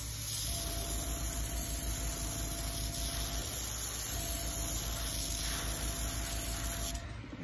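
Airbrush spraying paint onto a bass lure, fed by an air compressor: a continuous close, steady hiss lasting several seconds before tapering off at the end, with no one speaking.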